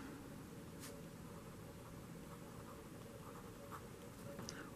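Marker or chalk writing out a math inequality on a board, a faint scratchy sound of strokes that comes and goes over a steady background hiss, with no talk.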